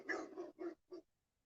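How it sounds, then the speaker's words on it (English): A neighbor's dog barks four times in quick succession nearby in a residential neighborhood, then falls silent, with no talking. "Neighbor's dog"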